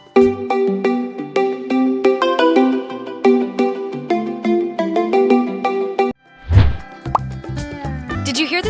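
Lenovo mobile phone ringtone: a steady, bright synthesized melody of repeating chiming notes, cut by a brief gap and a soft thump, then resuming, close and clear.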